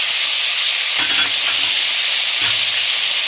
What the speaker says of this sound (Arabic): انا بحب اشوحها كده